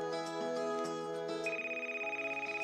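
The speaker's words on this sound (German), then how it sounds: "Oh, Telefon." A telephone rings in the VR game Letzte Worte, an electronic ringtone with repeating bright tonal bursts, close and clear with no talk over it.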